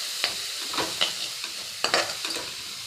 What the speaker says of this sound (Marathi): मसाले व्यवस्थित फ्राय करून घ्यायचे